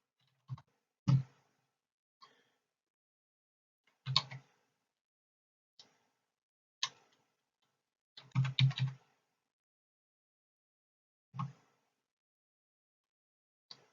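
Numbers being keyed into a calculator on a computer keyboard, heard as sparse, separate clicks and short bursts of keystrokes with long quiet gaps, close and fairly soft.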